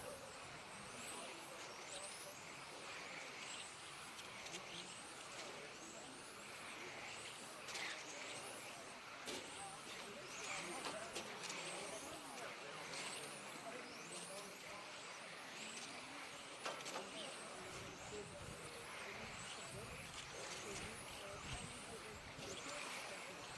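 Radio-controlled touring cars race around an asphalt track at a world championship qualifier, their high-pitched motors whining and sweeping past in a steady, continuous buzz with crowd and announcer voices underneath.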